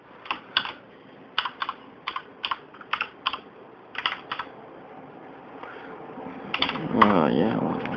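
A password is typed on a computer keyboard in separate quick bursts of crisp key clicks with short pauses between them, followed by a rising low rumble at the end.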